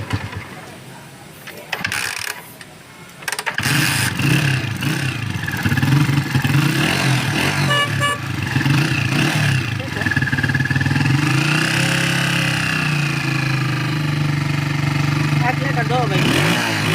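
A Honda CG125 motorcycle engine with a modified battery-charging setup sputters, then catches and settles into a steady, loud idle with revving, while people talk nearby.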